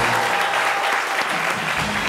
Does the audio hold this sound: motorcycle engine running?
no